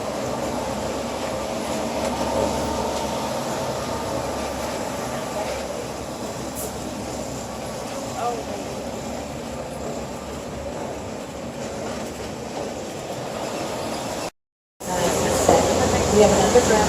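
A studio tour vehicle rolls along subway tracks through an underground station set, giving a steady rail rumble and hum that runs throughout, briefly cutting out near the end before resuming.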